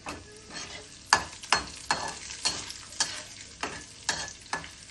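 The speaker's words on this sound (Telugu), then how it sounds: "ఎండుమిరపకాయలు వేసుకోవాలి." Dried red chillies crackle and sizzle in hot tempering oil in a home kitchen pan, with a steady frying hiss broken by a regular series of sharp stirring scrapes and pops, close and fairly loud, without any talk.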